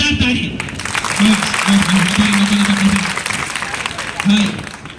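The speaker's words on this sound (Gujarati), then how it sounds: "જોરદાર તાળી" Audience clapping at a school farewell program at Shri Sadguru High School in Bhinar, a steady wash of applause lasting the whole clip, with voices and tonal sounds carrying over it.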